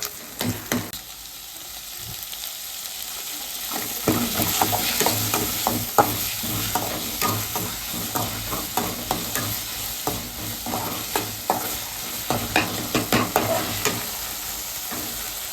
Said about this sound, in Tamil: உங்களால முடிஞ்ச அளவு கிண்டி விட்டுக்கோங்க